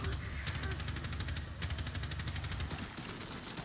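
Rapid automatic gunfire in the shooter game Rainbow Six Siege, a steady run of evenly spaced shots with low rumble beneath, moderately loud and continuous throughout.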